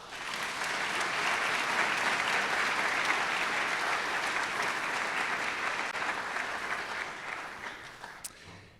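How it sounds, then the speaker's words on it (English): Sustained applause from an audience at a law school first-year welcoming ceremony honouring the cloakers, steady and dense clapping that holds for about eight seconds before tapering off at the end. "a round of applause for all our cloakers"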